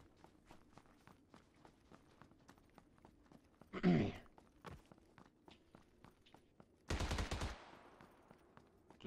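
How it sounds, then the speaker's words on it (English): Gunshots in the video game PUBG, two short bursts of loud close fire, one sharp and one sustained, over a steady patter of footsteps, with no talk. "Just got shot at."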